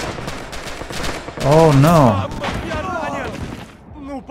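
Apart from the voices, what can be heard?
machine gun fire in video game Red Orchestra 2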